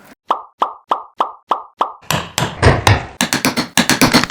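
A hammer strikes repeatedly in a kitchen in a steady rhythm, seven sharp close knocks, then a denser stretch of louder, clattering blows and bangs.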